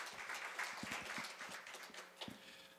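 Applause from the audience at a Korea University graduate school of labor evening event, fairly faint and scattered, with a few sharper claps standing out near the end and no talk over it.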